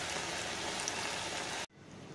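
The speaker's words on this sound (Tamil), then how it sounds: "இந்த மாதிரி ஃப்ரை பண்ணி எடுத்துக்கோங்க" Potato finger fries sizzling in hot oil, a dense steady crackle and hiss up close that cuts off abruptly near the end.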